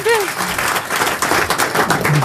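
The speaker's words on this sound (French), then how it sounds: "sous les applaudissements du public" Applause from the audience of a French radio and TV comedy panel show, a short burst of clapping mixed with voices and a brief vocal exclamation near the start.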